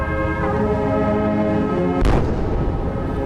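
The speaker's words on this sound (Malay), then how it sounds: "diiringi 21 das tembakan daripada Batalion Pertama Regimen Askar Melayu Diraja" A single loud, close gun blast from a Royal Malay Regiment battalion's 21-gun salute cuts through a sustained band chord of the national anthem, with a booming low report ringing out afterward.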